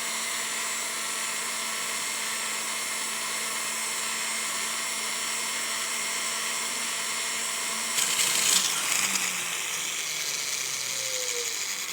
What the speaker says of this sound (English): We're just using a silicone wheel, kind of file this down a little more even.